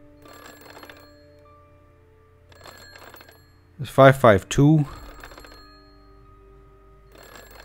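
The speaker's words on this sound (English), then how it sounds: "Alright, I understand that the phone's ringing." A telephone rings in the video game Bad Dream Coma, a loud burst of electronic ringing near the middle, with someone talking over quieter game sounds before and after.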